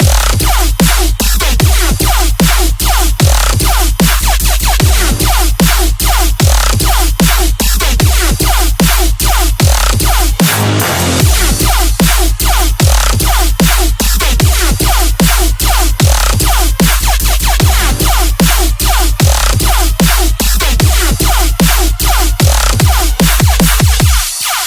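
A loud Riddim dubstep track plays alone, with dense distorted wobbling bass, steady pounding drums and a short breakdown around the middle before the heavy groove returns.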